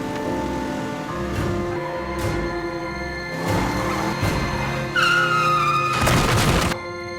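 A car engine revs hard and tires squeal as the car speeds off with its hood left open, the sound rising in bursts before cutting out.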